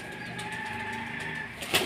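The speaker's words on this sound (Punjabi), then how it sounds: "ਇਹ ਸਦਰ ਸਾਹਿਬ ਦੇ ਜੀ ਕਬੂਤਰ" Racing pigeons at the Asooj 1 Day Cup pigeon-flying contest in Haripur give a sudden, sharp burst of flapping wings near the end, close and brief, after a quiet stretch of low outdoor background.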